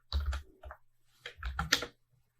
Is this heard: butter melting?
no